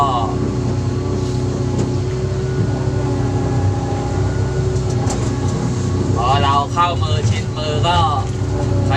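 An old Japanese machine's engine idles with a steady low hum throughout at a fish-pond dig while someone talks over it, and a few faint birdlike chirps come through near the end.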